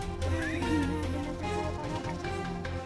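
A horse neighs and whinnies close by on a muddy trail down toward the city, several shaky rising calls with faint hoof clops and ambient noise underneath.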